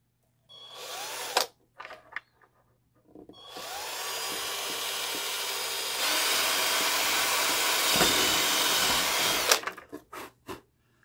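Power drill boring a hole into a plastic housing for homemade rudder pedals: a few short bursts, then a long loud steady whine that holds and rises slightly before stopping, followed by quick clicks and handling noises.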